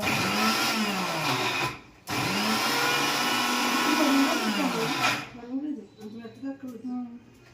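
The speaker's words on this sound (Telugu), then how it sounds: "మిక్సీ పెట్టేసాను" A kitchen mixer grinder grinding batter whirs loudly and steadily, stops briefly, runs again for several seconds and then cuts off, after which people talk nearby.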